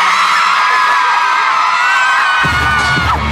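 A loud crowd at a dance show cheers, whoops and shouts continuously, with a steady roar of many voices and a thumping beat joining in near the end.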